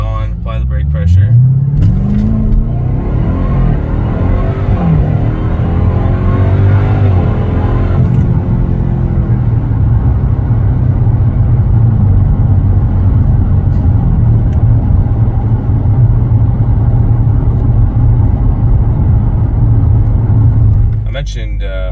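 A 2021 Dodge Durango SRT Hellcat launches hard from a stop, its engine roaring and rising through the revs, then holding a loud, sustained drone as it accelerates, with a person talking over it.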